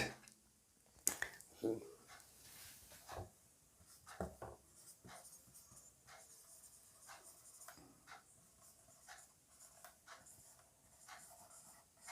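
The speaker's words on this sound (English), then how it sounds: "I am writing the answer on the whiteboard." Marker writing on a whiteboard, heard as close, scratchy, intermittent squeaking strokes with brief pauses between them in a quiet room.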